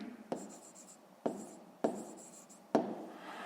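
Pen scratching on paper while writing out a fifth-grade maths exercise, four sharp strokes at intervals, each followed by a short rasp of script, close and quiet with no talk.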